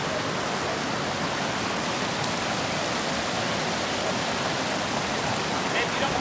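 River water rushing in Fish Canyon during a hike, a dense, steady broadband roar of flowing water that fills the whole clip at constant loudness.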